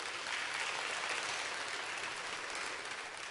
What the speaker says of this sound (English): How about a round of applause for our 3rd through 5th graders?